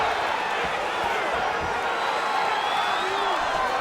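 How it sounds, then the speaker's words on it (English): Loud, steady roar of a cheering arena crowd in the UFC 5 mixed martial arts video game, a dense wash of noise holding level throughout. "The crowd's going crazy because they appreciate high-level mixed martial arts"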